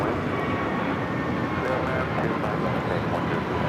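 An American Airlines Airbus A321neo takes off at LAX with a steady, dense engine roar that holds at full strength and does not let up.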